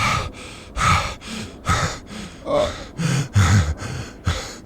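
Heavy, rhythmic breathing close by on a front porch, a series of loud gasping inhales and exhales repeating steadily with no talking.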